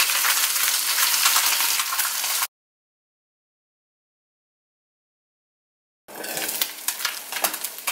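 A mojarra fish fillet fries in a pan with a close, steady crackling sizzle. The sound drops to total silence for several seconds, then the sizzle returns with sharper pops.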